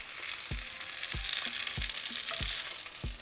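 Onion and tomato sizzle and fry in a pan for a fideo soup with ground beef, with a steady hiss broken by about six regular scraping stirs.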